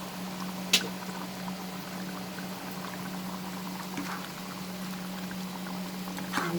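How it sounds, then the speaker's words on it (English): Dal simmering in an uncovered pot with raw mango, giving a steady, gentle bubbling hiss that runs throughout, with a soft clink near the start and another near the end. "So the dal is boiling for 4 minutes. Now I'll remove the lid."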